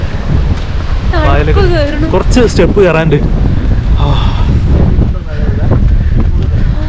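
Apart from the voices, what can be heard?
strong wind on a hilltop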